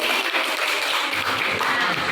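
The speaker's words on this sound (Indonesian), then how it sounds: "Tepuk tangan." Classroom clapping from students during a lesson on respiratory diseases, a steady dense wash of hands that holds at an even, fairly loud level for the whole stretch.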